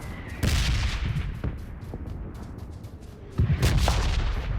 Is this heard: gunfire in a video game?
yes